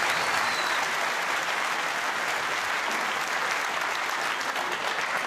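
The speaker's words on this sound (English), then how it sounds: "And how this Crucible crowd" A packed Crucible Theatre crowd applauds a century break at the World Snooker Championship semi-final, giving a dense, loud, sustained roar of clapping that stays even throughout with no voices heard over it.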